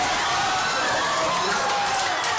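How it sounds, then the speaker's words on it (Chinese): A meeting room full of people at a city sports bureau erupts in cheers as the badminton final between Chen Long and Lee Chong Wei ends, making a continuous, dense roar of many voices. "当全场比赛的最后一球李宗伟回球出界的瞬间，市体育局的会议室里爆发出了满场欢呼"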